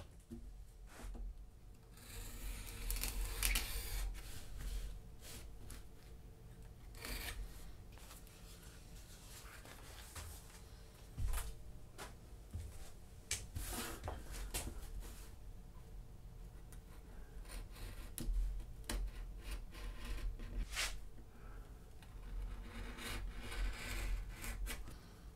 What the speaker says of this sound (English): it's time to trim off the excess of the leather patch